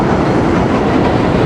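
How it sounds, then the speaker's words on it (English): A New York City subway train passes in the Bronx, a loud, steady rumble of rail cars with faint clickety-clack, close by and continuous, without speech. "There goes the subway line."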